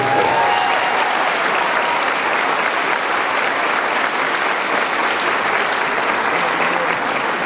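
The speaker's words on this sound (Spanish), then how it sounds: "Un aplauso para este municipio." Sustained loud applause from an audience at an education awards ceremony in Antioquia, honoring winners from the municipality of Itagüí, steady and dense throughout with no break.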